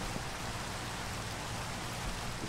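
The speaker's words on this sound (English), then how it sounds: "And I'm getting rained on now because there's no more leaves above me." Steady rain in Minecraft hisses faintly and evenly in the background, a soft continuous patter with no voices over it.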